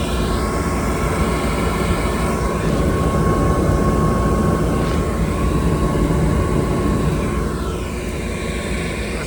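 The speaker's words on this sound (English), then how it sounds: "The blower just came back on." Steady, broad whooshing roar of a Daikin furnace blower running just after the burner fires up, continuous and loud with no breaks.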